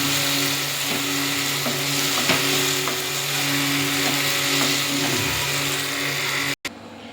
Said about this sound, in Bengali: এবার আলু পটল আর বেগুনটা দিয়ে দিলাম দিয়ে একটু মশলার সাথে ভালো করে মিশিয়ে নিতে হবে